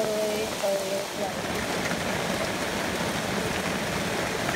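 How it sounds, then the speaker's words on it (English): Heavy, loud rain pours steadily around a camper standing in floodwater, a dense continuous hiss of drops on surfaces with a few brief tonal sounds near the start. "Wow, that's how loud the rain is."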